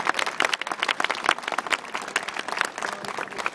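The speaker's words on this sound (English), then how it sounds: "Give them a clap" Outdoor street-festival audience at the Out There Festival in Great Yarmouth claps for the organisers: a dense, steady round of hand claps from a crowd, sustained and moderately loud throughout.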